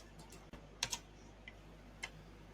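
A few scattered computer keyboard key presses, light clicks spaced irregularly over a quiet room hum, no talk.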